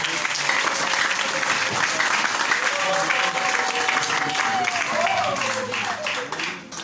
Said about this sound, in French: je vous invite à applaudir encore davantage